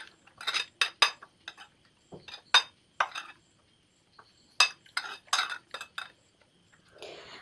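A spoon scrapes and clinks against a bowl while stirring salted mango pieces for an instant pickle, in a series of close, sharp metallic taps with short pauses between them.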